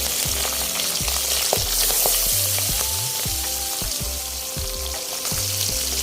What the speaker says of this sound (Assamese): এতিয়া মই গৰম তেলত মাছকেইটা ধুনীয়াকৈ ফ্ৰাই কৰি ল'ম